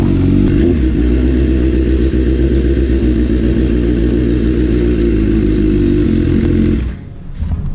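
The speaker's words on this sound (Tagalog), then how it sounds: "Grabing lakas ng motor mo bro." A BMW S1000R motorcycle engine roars loudly and steadily up close, its revs holding with a throaty rumble before cutting down abruptly near the end.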